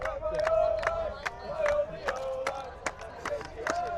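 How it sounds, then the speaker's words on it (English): A sideline crowd at the Lobster Pot ultimate frisbee tournament chants an O-line team cheer together, with rhythmic, sung tones punctuated by sharp claps or stomps that repeat steadily at close range. "this sounds like an O-line cheer"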